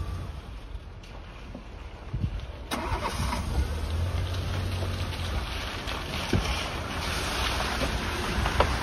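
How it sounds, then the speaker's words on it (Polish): A Fiat Siena with a freshly recharged battery is started: after a quiet stretch the engine catches with a sudden rise, then settles into a steady, low idle. "Patrzyłem, czy odpala, już akumulator się naładował."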